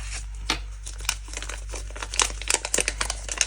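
A paper budget envelope and euro banknotes being handled, giving close crinkling and rustling with sharp paper snaps that grow busier toward the end, over a low steady hum.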